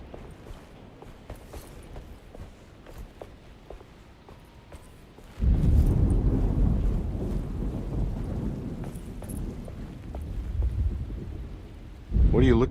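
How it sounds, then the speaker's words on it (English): Thunderstorm in the video game Alone in the Dark: soft rain patters quietly at first, then a loud, deep thunder rumble rolls in and lingers, and a second heavy burst breaks near the end. "Just keeping an eye out for the storm."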